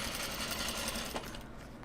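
A sewing machine stitches pieces of Japanese fabric for a small sling bag, a loud, rapid, even hum of the needle up close that briefly eases near the end.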